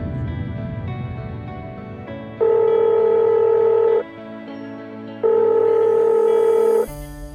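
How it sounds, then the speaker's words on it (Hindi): A telephone call placed from a Hindi Bible quiz TV show rings out: two long, steady ringback tones sound about a second apart over a low continuous background bed, then cut off as the line is answered. "चलो हम मिलाते हैं उनको फोन।"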